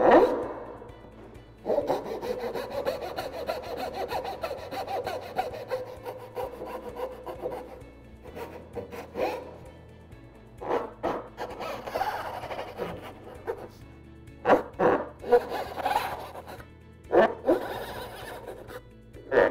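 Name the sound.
hand saw cutting dovetail pins in wood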